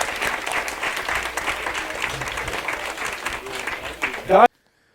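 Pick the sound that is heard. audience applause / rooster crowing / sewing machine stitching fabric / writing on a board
audience applause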